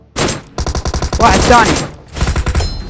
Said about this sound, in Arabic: انت ترمي بسلاح مو بندقية